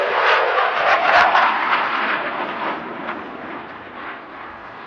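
A fighter jet flying a tail slide maneuver at the Aero India air show, heard as a loud, sustained roaring rush of engine noise that swells early and slowly fades as the aircraft climbs away.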